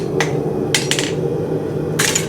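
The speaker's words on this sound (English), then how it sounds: "I'm going to drive the round side of my hammer into that toe, and I'm going to create a toe bend" A farrier's round-faced hammer strikes the toe of a heated horseshoe to form a toe bend, ringing out in a few quick, bright metallic blows, some in close pairs, over a steady shop background.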